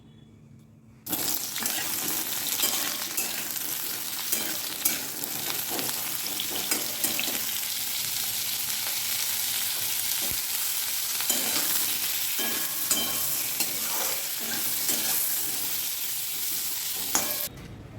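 Pointed gourd (potol) fries in hot oil with a loud, steady sizzle that starts suddenly after a moment of quiet and carries on evenly, with small clinks and crackles.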